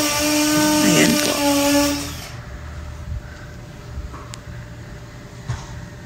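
A power drill whirring briefly as it drives screws to mount a mirror during house renovation, a loud buzzing burst that cuts off, followed by quieter room sounds and faint knocks.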